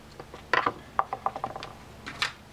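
Small Phillips head screw being backed out of the axle shaft on a Daiwa Gold Series GS13 fishing reel, giving a run of soft, close ticking and ratcheting clicks in an uneven rhythm, quiet and without talk.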